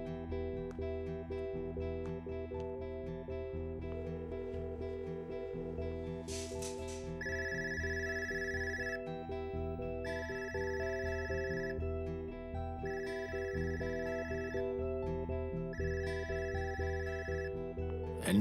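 Telephone left ringing unanswered, quiet repeated electronic ring bursts sitting within sustained background music, no one speaking.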